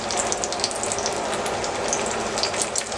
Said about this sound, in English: So we're just gonna let that steak cook.